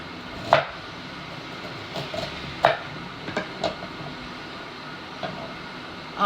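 Peeled ginger is pounded in sharp, separate knocks, a few solid thuds spaced irregularly over a quiet background.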